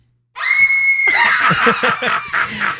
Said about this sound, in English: Can I have my effect? Which one you want? Scream.